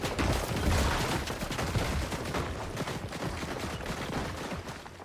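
Rapid automatic gunfire sprays in a Fortnite match as two teams fire at once, dense overlapping bursts filling the whole stretch at a steady, loud level.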